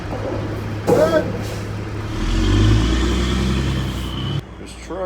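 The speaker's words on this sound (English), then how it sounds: "There's truck after truck after truck." Trucks roll past close by at a Crookston, Minnesota sugar beet harvest, a steady low engine rumble swelling as one passes near, with people talking over it.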